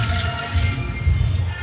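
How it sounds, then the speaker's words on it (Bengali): Water poured into a hot cooking pot of oil-fried whole spices, making a continuous rushing, bubbling pour with a low rumble, close and fairly loud for under two seconds. "ভাজা হয়ে গেছে, এবার জল দিয়ে দেব।"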